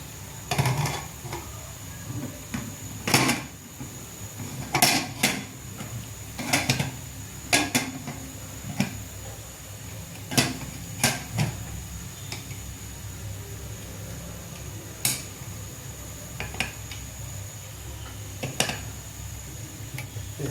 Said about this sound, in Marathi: हे कुकरचं झाकण लावला मी